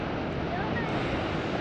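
Ocean waves and surf near San Francisco where surfers ride, a broad continuous wash of surf noise heard from a distance, mixed with wind buffeting the microphone.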